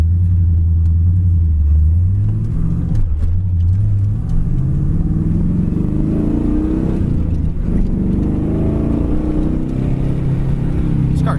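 The engine of a 1979 Camaro Z28 rumbles loud and close while driving, revving up and dropping as gears shift through first, second and third.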